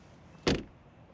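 A frameless door on a 2025 BMW iX facelift electric SUV shuts with a single short, muffled thud, fairly close and alone against a quiet background.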